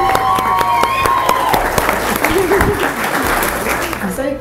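Wedding guests at Blakelands Country House clap loudly and continuously, with voices and a brief sustained tone mixed into the applause.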